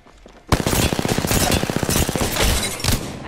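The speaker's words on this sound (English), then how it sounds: "I'm taking shots." Rapid automatic gunfire in the shooter game F.E.A.R., a loud, dense burst of rattling shots that erupts suddenly after a brief quiet and keeps hammering to the end.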